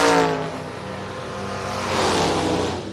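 A big Buick drag car accelerates down a drag strip, its engine roaring loud at the launch, easing briefly, then building again as it screams past, with no talk over it.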